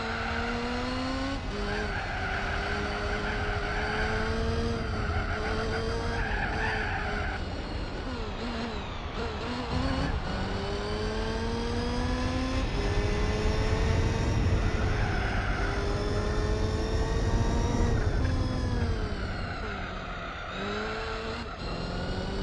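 Race cars in Gran Turismo 4 on PS2, engines revving up and down through repeated gear shifts, with rising and falling whines, tire squeal on corners and a continuous loud drone with no talking.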